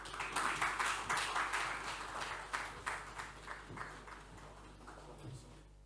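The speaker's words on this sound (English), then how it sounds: "A round of applause as they come up." An audience at a business forum claps as speakers walk up on stage. The applause is moderately loud and crowded, with distinct hand claps that gradually thin out and fade toward the end.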